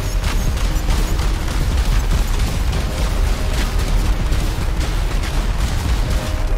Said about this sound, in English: Can I blow up a car with the fireworks?